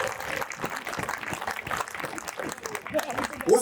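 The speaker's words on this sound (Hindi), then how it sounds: "क्या हिम्मत की तालियां दो।" Listeners at a Hindi comic poetry recital clap in scattered, uneven bursts while a performer keeps talking over them. The applause rises and falls with a louder swell at the very end.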